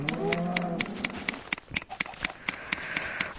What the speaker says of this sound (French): Voilà, elles sont là, mes petites vaches.